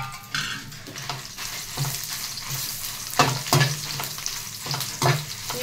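Dried red chillies frying in a pan for chilli powder, a steady close sizzle with stirring scrapes and occasional louder crackles running throughout, with no talking.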